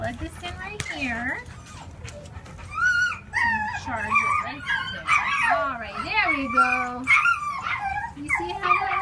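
A dog at a city animal shelter whimpers and yips in rising, wavering cries throughout, close and fairly loud, with a person's voice speaking softly over it.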